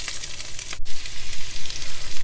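Garnish ingredients go into a full pan of meatballs in tomato sauce and fry with a loud, close sizzle that surges in uneven bursts as they are stirred, with no talking.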